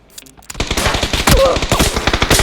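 Rapid automatic gunfire in a video game, a loud dense burst of shots in a fast steady rhythm that starts after a brief quiet moment and continues to the end.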